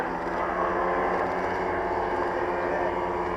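Continuous droning engine hum of a giant scale DH.88 racer model aircraft flying slowly past with full flaps at an airshow, steady and fairly loud throughout.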